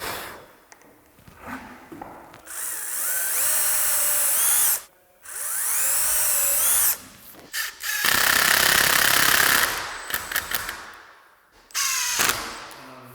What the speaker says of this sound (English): I'll drill it slightly nearer the back of the hinge, so when the screw goes in, it pulls it in slightly tighter